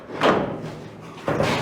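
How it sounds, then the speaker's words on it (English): A car door with its handle removed in a chopped-roof build, opened from outside with a thud and then slammed shut about a second later, two distinct close impacts with no talk. "But Duffy, how do you open the door from the outside now?"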